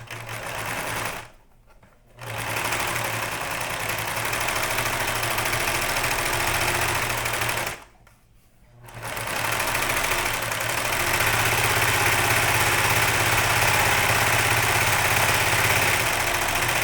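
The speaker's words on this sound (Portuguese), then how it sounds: "eu vou passar na máquina uma costura unindo esses 2 tecidos" A sewing machine stitches two pieces of cloth together for a fabric bird, a loud steady mechanical whir running continuously, stopping briefly twice before resuming.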